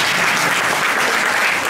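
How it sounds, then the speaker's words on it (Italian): Loud, dense clapping from a crowd at a charity music evening for AIDO Segrate, a brief steady burst of applause with no voices standing out. "Fatemi un applauso"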